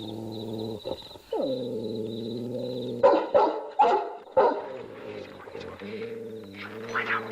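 Dog barking in a sequence of several sharp, loud barks between tonal sustained sounds from a film soundtrack.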